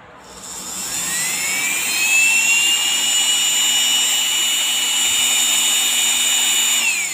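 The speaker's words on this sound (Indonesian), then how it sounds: "Dinamo DC ini atau motor DC 775 ini untuk RPM-nya sangat kencang sekali, sudah high speed." A 775 DC motor spins up from rest to a high-speed whine, holding a loud, steady, shrill tone for several seconds before beginning to wind down at the end.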